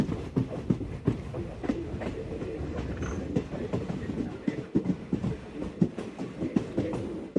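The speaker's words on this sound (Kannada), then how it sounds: "ಕುಂದಾಪುರ ರೈಲ್ವೆ ಸ್ಟೇಷನ್ ಅಲ್ಲಿ ಮತ್ಸ್ಯಗಂಧ ಕ್ರಾಸಿಂಗ್ ಆಗ್ತಿದೆ." A Matsyagandha Express hauled by a WDG4 diesel locomotive runs through Kundapura railway station, its wheels making a steady, close clickety-clack rhythm over the rail joints with a dense rumble underneath.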